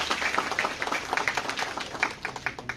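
Audience applause at an MBA orientation programme, many hands clapping steadily in a dense, continuous patter that fills the room at moderate loudness.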